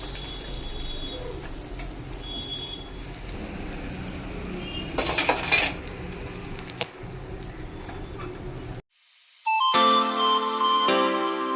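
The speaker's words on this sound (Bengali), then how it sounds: "পটল ভাজাটা তুলে নিই।" Slices of pointed gourd finish frying in a pan with a steady close sizzle and a few utensil clinks. Near the end the frying noise cuts out and a short burst of brighter tonal sound follows.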